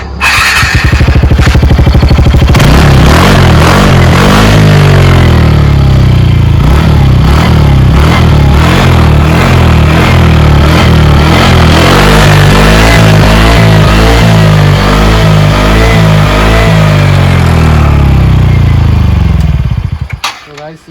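A TVS Ntorq scooter engine runs loud and close for about twenty seconds, revving with rising and falling pitch before cutting off, with voices faintly present over the motor.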